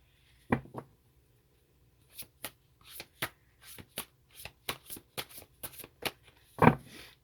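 A deck of tarot cards is shuffled by hand in crisp, close riffles and snaps, around a dozen quick separate bursts at irregular spacing in an otherwise quiet room.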